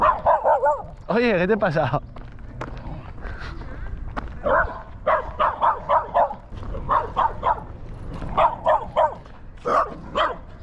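A dog barks near a river during urban fishing on the Ebro, giving repeated yips and bow-wows in short bursts over about ten seconds, with someone speaking between them.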